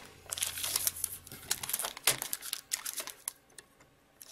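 Scissors cut through a folded paper greeting card at the fold, producing close, quiet crisp snips and crinkling rustles that come in quick irregular bursts.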